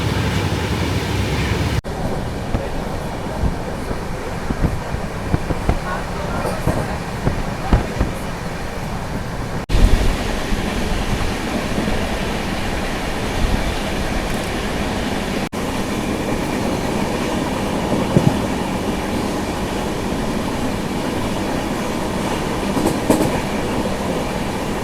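The Solapur Hassan Express rumbles along steadily at speed, heard from inside a crowded carriage, with wheel clatter and rattling throughout and faint voices now and then.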